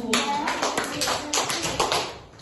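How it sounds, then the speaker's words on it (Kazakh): A first-grade class of children clapping in unison in a classroom, a series of sharp, rhythmic claps close by, with a teacher's voice mixed in. "Үш шапалақ балалар"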